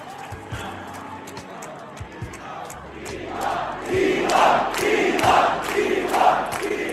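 A large crowd at Trump's Davos speech swells from a low murmur into loud rhythmic chanting and cheering, repeated in even bursts in the second half.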